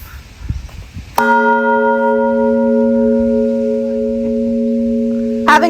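A single bell at a lighthouse strikes and rings out with a long, clear sustained tone that slowly fades, preceded by faint background noise, and another strike just begins at the end.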